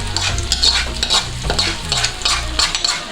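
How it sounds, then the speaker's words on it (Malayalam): A masala curry with tempered shallots and curry leaves is stirred in a hot pan for an Onam meal: loud, close, rhythmic scraping strokes over a continuous sizzle, with no voices. "നമുക്ക് ഇതൊന്ന് നന്നായിട്ട് ഇളക്കി യോജിപ്പിച്ചതിന് ശേഷം ഫ്ലെയിം ഓഫ് ചെയ്യാം."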